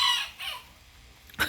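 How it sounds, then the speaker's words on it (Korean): A household rooster crows faintly from a short distance, with drawn-out calls and a sharper burst near the end, heard alone without talk. "제가 촬영만 하면 우리 집 닭은 웁니다 또"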